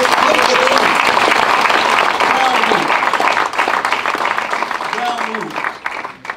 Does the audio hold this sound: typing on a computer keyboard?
no